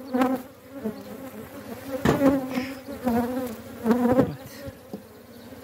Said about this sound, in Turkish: bu boş kovana gelen arımız, oğlumuz